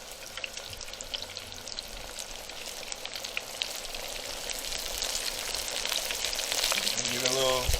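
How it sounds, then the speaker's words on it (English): Battered cauliflower chicken fries in a deep fryer with a steady, hissing sizzle and fine crackling that slowly grows louder; a voice comes in briefly near the end. "we're gonna go ahead and put it inside the deep fryer"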